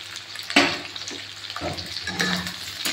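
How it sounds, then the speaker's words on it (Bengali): Chopped onions dropped into a hot pan on a high gas flame for chilli potato, a sudden hiss at the drop and then steady frying crackle with a few stirring scrapes, close and alone. "এর মধ্যে এবার দিয়ে দিচ্ছি এখানে কুচিয়ে রাখা পেঁয়াজগুলো"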